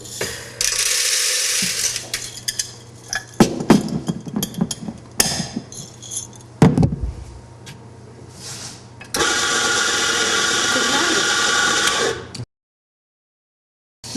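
A coffee grinder turns oily Indonesian arabica beans into a fine powder: a short whirring burst near the start, then a longer, loud, steady grind near the end, with clatter and knocks in between.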